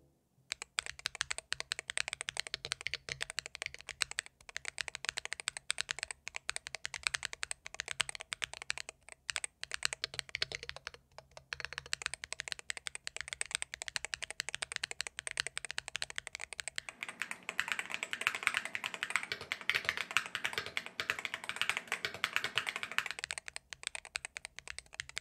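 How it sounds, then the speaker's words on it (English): Steady rapid clacking of a Mchose Ace68 Turbo mechanical keyboard, continuous typing with brief pauses, close and crisp, no voices. "the promised sound test of this keyboard"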